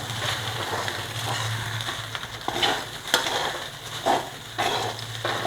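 Dried red chillies being stirred in a pan for amla rice, with a steady frying sizzle and repeated scraping strokes of a spoon against the metal, close and moderately loud with no talk.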